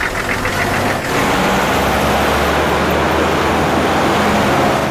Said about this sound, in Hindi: चल गाड़ी चला, चलो।